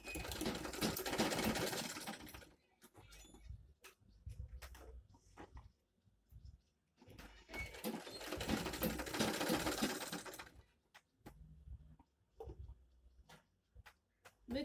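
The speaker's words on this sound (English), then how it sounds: "Place it back to your machine and sew it all the way down." Sewing machine top stitching the folded edges of a handmade mini bag, running in two long steady bursts of rapid whirring stitches separated by pauses filled with small clicks and handling sounds.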